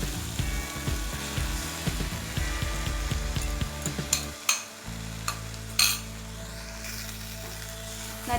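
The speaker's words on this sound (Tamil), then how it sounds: "முட்டை எடுத்து ஊற்றிக்கலாம்." Egg is stirred into wilted drumstick leaves frying in a pan, with a steady close sizzle, scraping spatula strokes and a few sharp clinks against the pan.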